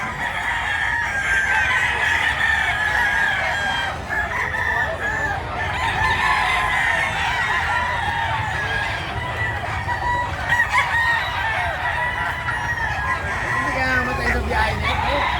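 A dense crowd of native chickens clucks and squawks continuously while roosters crow repeatedly, loud and close, with faint voices mixed in.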